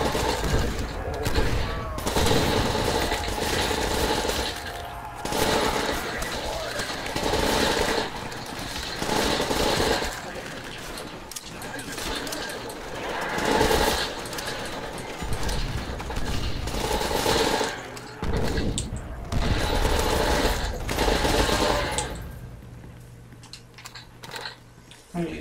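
Call of Duty: World at War custom zombies gameplay with dense, continuous gunfire and clattering mechanical weapon noise filling the scene, loud and sustained throughout, with a voice talking over it.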